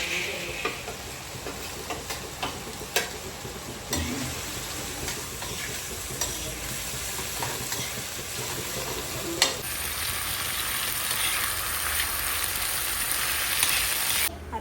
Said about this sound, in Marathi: आता इकडे मी कोळंबी फ्राय करायची.